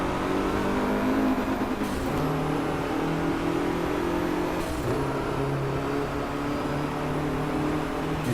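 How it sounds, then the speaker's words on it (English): A race car engine in the DRIVECLUB video game revs hard toward the red line, a loud continuous drone that climbs in pitch and drops sharply at each gear shift, with two clear shifts. "when you hit the red line, the engine runs out of breath"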